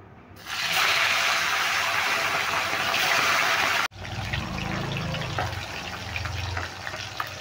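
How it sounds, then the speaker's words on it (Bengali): A loud, steady sizzle of fish frying in hot oil, cutting off abruptly and then continuing as a softer crackle with bubbling. "তেলটা খুব ভালো গরম হয়ে গেছে, এবার আমি মাছগুলো দিয়ে দিচ্ছি।"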